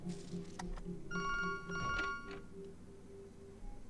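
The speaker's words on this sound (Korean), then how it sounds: "전화 왔다." A telephone rings in the game To the Moon, with a brief electronic ring tone heard faintly over a soft, steady game music background.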